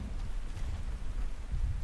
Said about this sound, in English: Raining now as well.